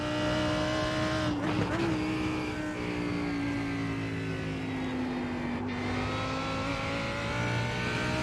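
Ferrari GT race car lapping Imola in a sim racing game, with a steady high engine drone that climbs and falls through gear changes and brief tire scrub, heard close and continuous.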